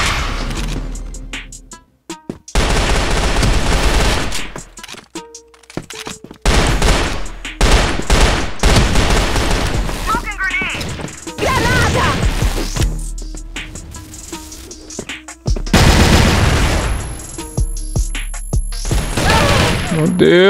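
Rapid bursts of automatic gunfire and sharp shots in a first-person shooter match, loud and close, broken by short pauses and a blast, with excited players talking over the action.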